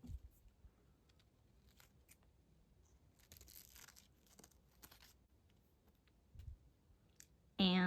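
Scissors snip through felt-like craft material for a miniature Santa hat, a series of faint, close clicks and crunches spread across a quiet background.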